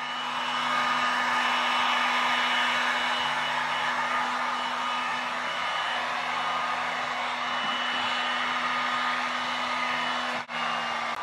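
Heat gun warming a car body panel before Bondo is applied, a steady close blowing roar with a constant low hum, running nearly unchanged throughout.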